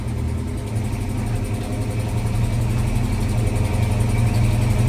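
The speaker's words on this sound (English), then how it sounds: "You hear our exhaust leak." A Mopar Little Red Express truck with a new engine idles hot with a low, rhythmic puffing rumble from a leaking exhaust, steady and close, with no voices.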